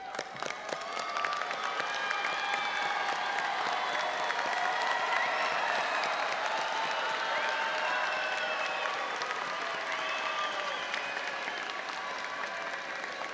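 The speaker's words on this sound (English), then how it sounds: "join me in applauding all those who helped you earn your degree" Graduates at a university business commencement applaud the people who helped them, a long, sustained roar of clapping from a large crowd mixed with scattered cheers and whistles that rises early and holds.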